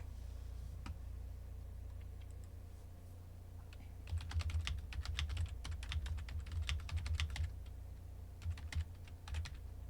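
Rapid keystrokes on a computer keyboard, alone and fairly close, sparse at first, then a dense burst of busy typing with short pauses, over a low steady hum.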